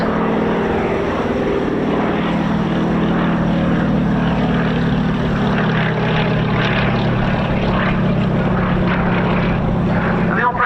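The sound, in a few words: Fairey Swordfish propeller biplane flying at air show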